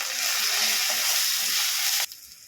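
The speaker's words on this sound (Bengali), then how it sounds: "ধনে গুঁড়ো জিরে গুঁড়ো আবারও ভেজে নেবো মশলাগুলো" Ground coriander and cumin fry in hot oil in a pan for a Bengali jackfruit-seed dish, giving a close, bright sizzle that cuts off abruptly after about two seconds.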